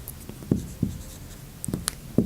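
Pen strokes scratch across paper while notes are written in a biology lesson, a few short, close scrapes and taps spaced irregularly over a quiet room background.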